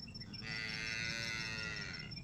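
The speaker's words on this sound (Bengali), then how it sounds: "ওখানে গরুও ডাকছে" A young calf lows outdoors near the Damodar riverside, one sustained moo of about two seconds, moderately loud over a steady background of open-air noise.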